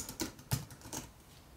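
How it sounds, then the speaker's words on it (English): Code being typed on a computer keyboard, a few quiet, separate key clicks in an uneven rhythm, up close with no talking. "this is a bit of typing"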